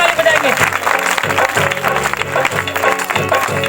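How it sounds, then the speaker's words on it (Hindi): Loud applause from a congregation at a live church healing service, dense and sustained with a chanted or sung voice running over the clapping. "जोर से ताली बजाएंगे"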